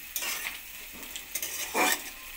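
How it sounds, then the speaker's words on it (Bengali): Salted, turmeric-coated boiled potatoes fry in hot oil with a steady sizzle, broken by several scraping stirs. One louder, fuller burst of frying comes near the end. "আলুটাকে একটু লাল করে ভেজে নেব।"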